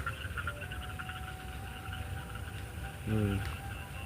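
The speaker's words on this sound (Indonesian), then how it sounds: "Lihat banyak suara-suara kodok guys." Several frogs croak near a rice-straw pile in the countryside, the calls faint and steady through most of the stretch, then one louder, nearer croak sounds toward the end.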